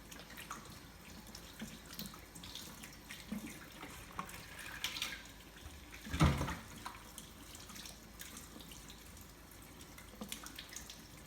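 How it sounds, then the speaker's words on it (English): Water runs from a kitchen tap into a sink while hands are washed, a faint steady trickle with a few louder splashes midway. "I'm gonna wash my hands"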